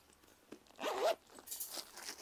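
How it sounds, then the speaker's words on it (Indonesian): A zipper on a leather bag slides open in a short close burst, a brief rasp followed by a lighter second pull, quiet and alone. "Satu pakai zipper, satu pakai resleting."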